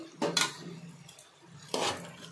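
A spoon stirs naatu kodi chicken curry with turmeric and salt in a pot, giving two sharp metallic clanks and scrapes against the rim with a quieter stretch between them.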